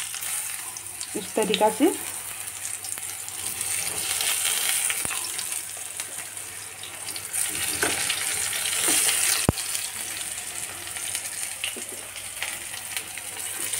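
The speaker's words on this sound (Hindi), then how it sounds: "ऑयल गरम हो चुका है, अब मैं इसे तलने के लिए रखूंगी" Stuffed eggplant, filled with spice masala, sizzles in hot oil in a home kitchen pan, a steady moderate frying hiss with brief clatters and a short spoken phrase near the start.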